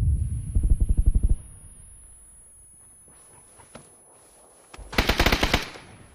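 Rifle gunfire in the video game PUBG: a rapid burst of shots at the start, a quiet stretch with faint scattered noises, then a second loud rapid burst near the end.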